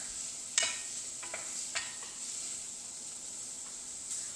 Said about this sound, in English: I'm going to go ahead and add the green onion in. Okay. We'll give that a stir.